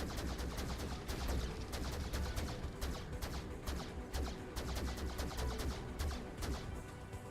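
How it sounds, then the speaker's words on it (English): Naval gunfire in World of Warships from the French battleship Republique, a steady barrage of overlapping cracks and booms against constant low rumble, faint and distant. "I take some pot shots across"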